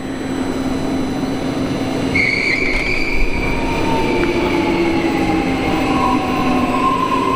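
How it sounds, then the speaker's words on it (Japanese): An electric commuter train in the Korean capital region rolls past, a loud continuous rumble with high, drawn-out wheel squeals rising and gliding above it, with no talk. "韓国首都圏に来るともこの電車しか見ないというような感じ"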